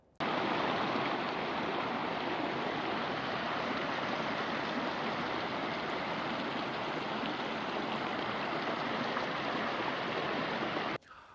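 The Bolshaya Lipnya river in Vladimir region, polluted with manure and foam, flowing with a steady, dense rushing and gurgling of water, close and even in level for the whole stretch, with no voices.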